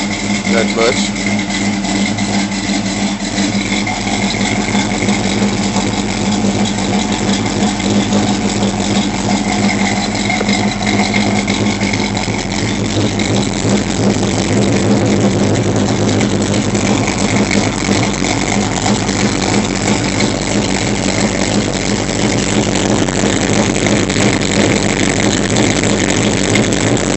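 A car engine idles after a fuel pressure regulator upgrade, a steady loud rumble with rapid uneven ticking and faint popping, close and continuous throughout, with someone talking intermittently over it.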